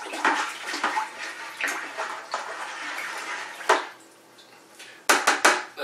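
Cider being stirred in a brewing vessel for a hopped orchard cider, giving sloshing, splashing liquid sounds with clinks and knocks against the vessel, steady at first, pausing briefly, then a few louder bursts near the end.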